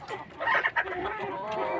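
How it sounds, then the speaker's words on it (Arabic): Chickens clucking on a rooftop, a close burst of excited clucks and squawks over a short stretch with no talking. "طلعت بقى الفراخ على البحر بقى، كله بقى ياكل."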